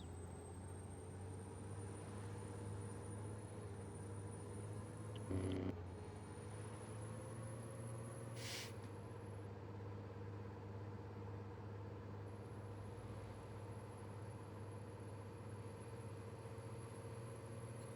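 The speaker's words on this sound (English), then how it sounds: "I know in the past this truck has been really, really loud" Truck engine idling with a steady low drone and a constant high whine, one brief hiss of air partway through, faint and continuous with no talk.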